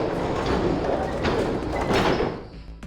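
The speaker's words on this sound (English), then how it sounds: "they both pushed, and the gate creaked open" Gate in Zero Escape: 999 being pushed open, a loud, dense grinding rumble for nearly three seconds before it tapers off.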